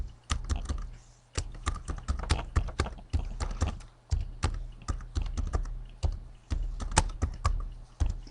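Rapid keystrokes on a computer keyboard, clattering in quick irregular bursts with brief pauses, close and fairly loud with no voices.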